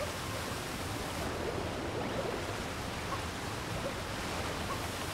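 A waterfall in Super Mario Odyssey gives a steady broadband rushing roar, loud and even throughout with no pauses and no voices.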